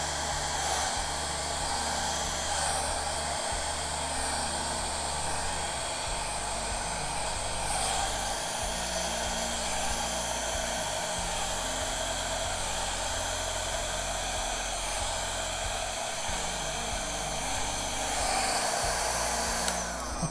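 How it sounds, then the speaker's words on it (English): A steady, loud blow dryer used on acrylic pour paint roars continuously, a broad airy whoosh with a low motor hum underneath, holding level throughout. "I think I'm going to leave it with the blow dryer for now"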